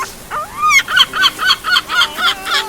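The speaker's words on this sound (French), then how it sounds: "Mais c'est pas une mouette ça, c'est un goéland." A large gull gives a loud series of repeated honking calls, about seven rhythmic notes close to the listener, heard alone with no voices.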